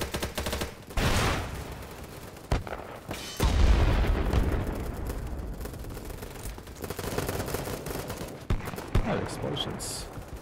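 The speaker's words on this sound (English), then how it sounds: "Explosions." Loud booms and rumbling blasts roll through continuous gunfire in the video game BattleBit Remastered, with a big explosion early on and scattered bursts after, under occasional voices.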